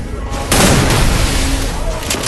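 Gunfire in a shooting video game, a loud, dense burst of booming shots that rings on and blends with excited voices talking over it.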